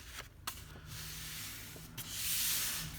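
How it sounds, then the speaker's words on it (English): A folded paper crease is burnished with a dry rubbing scrape, a few short strokes followed by a longer, louder rub, close and alone. "and you're going to burnish."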